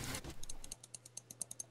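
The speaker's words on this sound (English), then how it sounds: "now I hear clicking because there's no sound playing for me" Sharp computer keyboard or mouse clicks, close and fairly faint, tapping out in an irregular quick rhythm with a dozen or so distinct clicks and no voices.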